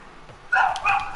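A dog barks in a Rocket League gaming session: two short, loud yelps or barks close together, standing out sharply over a quiet background.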